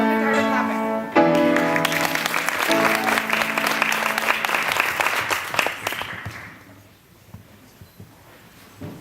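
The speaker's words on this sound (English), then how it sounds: "Don't get tired of clapping." Loud sustained applause from an audience at a third grade violin concert, with a few sustained tones at first, fading gradually to near silence toward the end.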